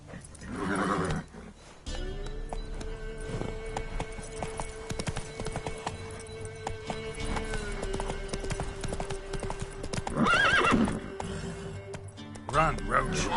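Roach the horse gallops in The Witcher, rhythmic hoofbeats running steadily under a man's spoken commands, with a brief neigh near the end and music in the background.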